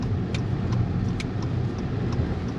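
A car rolls slowly up onto a lot of old vintage cars along Route 66, its engine a low, steady rumble close by, with a few faint clicks and ticks over the drone.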